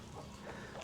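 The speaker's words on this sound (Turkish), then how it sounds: "tavuğa bak, tavuğa bak. Bir sürü civciv olmuş." A hen clucks faintly among her chicks outdoors in rural Thailand, with soft, scattered calls over steady background noise and no talking.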